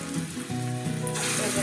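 Pointed gourd (potol) kofta balls fry in oil in a pan over a very low gas flame, making a continuous close hiss and crackle that swells slightly toward the end.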